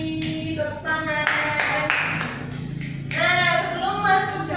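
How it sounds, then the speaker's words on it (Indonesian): Classroom applause during a chemistry lesson: a short burst of clapping from students mixed with voices calling out together, fairly close and lively. "Tepuk tangan."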